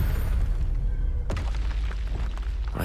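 A Confringo spell explosion in Hogwarts Legacy, a sharp blast cracking out over a deep rumbling game backdrop, with a second thump closing the moment.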